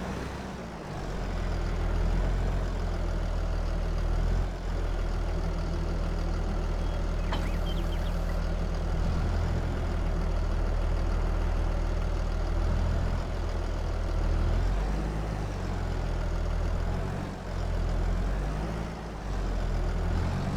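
A tractor engine idles steadily in Farming Simulator 22, a loud, low, continuous rumble that holds for about twenty seconds with only slight shifts in tone and no talking.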